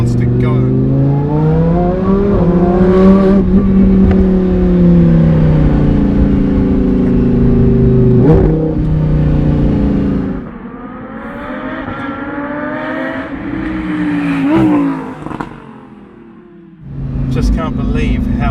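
A supercharged Lamborghini Huracan engine rises in pitch through several sharp upshifts as it accelerates hard, loud and close, then eases off and revs up again.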